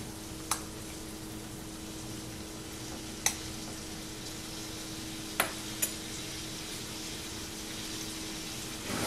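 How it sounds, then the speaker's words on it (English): Butter melts in a pan as the start of an étouffée, giving a faint, steady low sizzle with a few sharp clicks and taps of utensils, quiet and without talk. "So let's just get the butter melted down."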